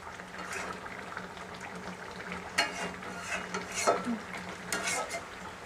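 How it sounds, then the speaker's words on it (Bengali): Spoon scraping and stirring through chicken curry in a pot as garam masala is mixed into the meat, with a steady sizzle and bubbling underneath and a few louder scrapes. "ভালোভাবে গরম মশলা মাংসের সাথে আমি মিশিয়ে দেব।"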